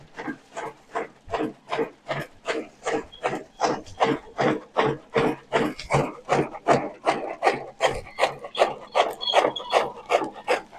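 A chaff cutter (kutti) machine runs with a steady, rapid rhythmic rasping and thumping, each chopping stroke repeating about twice per second, moderately close with no talk.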